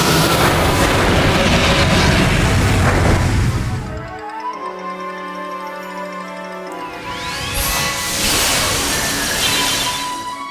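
In the Yu-Gi-Oh! The FalseBound Kingdom video game, an air cannon attack erupts as a loud, roaring explosive burst, breaks off into a tonal musical pause, then returns with another heavy rumbling blast and rising sweeping tones.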